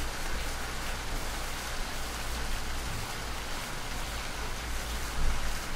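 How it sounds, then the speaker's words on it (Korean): Steady rain falling outside, a dense even hiss of drops on surfaces that continues unbroken throughout, with a slight swell near the end. "It's raining outside."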